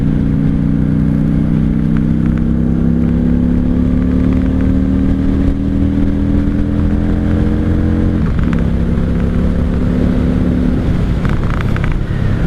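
A 1995 Honda Shadow VLX 600 V-twin cruiser is ridden in second gear, its engine droning loud and steady with a slowly rising pitch, then easing briefly before it pulls again.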